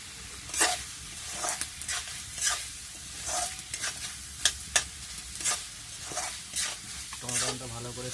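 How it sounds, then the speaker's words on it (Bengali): Tomatoes cooking in spiced oil in a pan, with a steady sizzle under repeated spoon strokes and sharp scrapes; a brief spatter of frying noise comes near the end. "টমেটো দিয়ে দেবো আমরা।"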